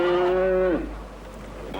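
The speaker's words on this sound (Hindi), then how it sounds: "मुंबई में मुझे कहीं से भी भैंस की आवाज नहीं मिल रही थी।" A buffalo lets out a single close, loud moo, a strong tonal bellow lasting under a second, followed by quiet background.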